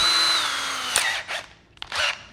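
A handheld power drill whines at speed close by, its pitch sliding down as it slows, then revs again in two short bursts.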